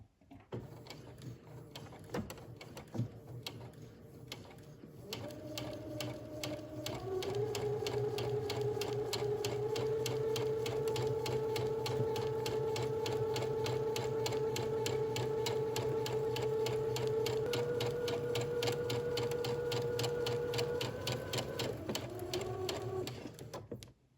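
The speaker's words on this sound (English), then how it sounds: "you will start stitching from that point, and you will begin and end with a back stitch for this top stitching" A sewing machine runs a long steady burst of top stitching on a shirt dress, its motor humming evenly at close range after a few slow starting stitches.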